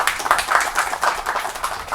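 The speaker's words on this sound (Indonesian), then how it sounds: "Kita beri tepuk tangan yang meriah" An audience at an Indonesian talk show applauds a guest cultural figure from Banten, dense steady clapping from many hands filling the room without a break.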